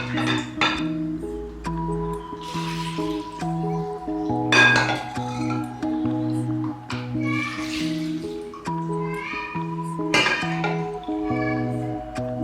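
A spoon stirs sugar into awuzebia drink, giving repeated light metallic clinks against the container at an uneven rhythm, close and clear over a steady tonal background.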